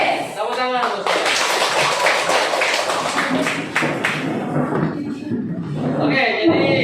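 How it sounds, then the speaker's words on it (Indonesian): A classroom of students claps together in a dense, continuous burst of applause for a sociology teacher, loud and close for several seconds, with voices and some chatter mixing in near the end. "Tepuk tangan untuk saya."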